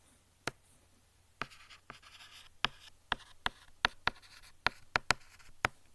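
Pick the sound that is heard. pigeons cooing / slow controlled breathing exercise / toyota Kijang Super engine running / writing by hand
writing by hand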